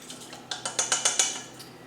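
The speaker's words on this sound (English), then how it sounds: "I'm going to put a pinch of salt in here, just a pinch." A whisk beats a pinch of salt into a citrus salad dressing, giving about seven quick, bright clinking strokes against the bowl in a steady rhythm, close and fairly soft, with no voices.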